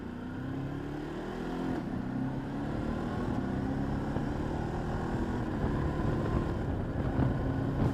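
A Ducati DesertX motorcycle engine running, a steady low mechanical drone with faint tonal whine that swells slightly and holds at a moderate, close level without speech.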